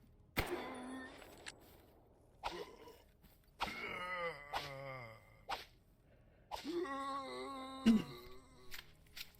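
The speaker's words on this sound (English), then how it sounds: "That's a cat." A cat meows several times in drawn-out, wavering calls with short pauses between them. The cries are close and fairly loud, with no talking.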